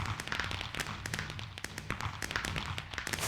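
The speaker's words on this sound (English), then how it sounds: "there's a little fireworks display going on" Fireworks in a Minecraft world go off as an automated nightly display, a quick irregular run of small pops and crackles at low volume.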